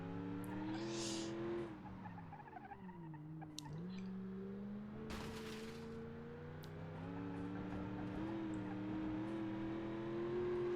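A car in the driving game BeamNG.Drive, suffering damage, holds a steady engine drone that dips and climbs as it shifts through laps, with tyre squeals and skidding bursts cutting in over it.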